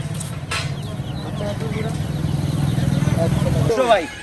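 Poultry calls rise from a busy village market selling large geese and ducklings, over a low crowd murmur and passing engine noise, with people talking throughout.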